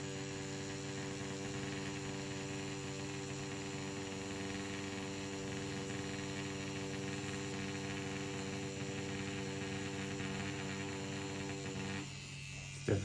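A Dragonhawk Mast Racer Pro tattoo machine running on a soft hitting setting, a steady close electric buzz with layered hum tones holding evenly for about twelve seconds before briefly dropping near the end.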